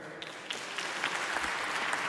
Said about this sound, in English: can I hear you guys clap over here?